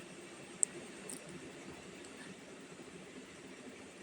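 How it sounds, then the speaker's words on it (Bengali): A train rolls slowly into Alipurduar Junction, heard as a faint, steady low rumble with a brief metallic tick, and no voices. "তো এই যে ট্রেনটা দাঁড়িয়ে পড়লো"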